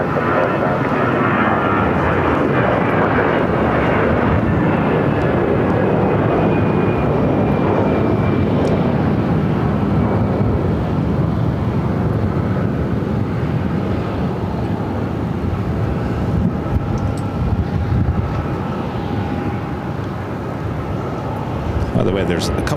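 An American airliner takes off from runway 7 left at Phoenix Sky Harbor, a loud, continuous jet roar that holds steady throughout, with faint radio talk underneath.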